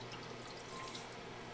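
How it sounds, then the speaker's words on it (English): Roughly a cup of water poured into the bottom of a roasting pan beneath ribs on a rack, a faint, short trickle with light drips and no voices. "Just going to get probably about, I don't know, roughly a cup of water in the bottom of this."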